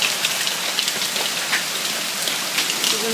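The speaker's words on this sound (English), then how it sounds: "the rain's coming in" A hail and rain storm in Alberta pours down in a dense, constant roar, with sharper pellet-like hits scattered through it, loud and close, with no voices.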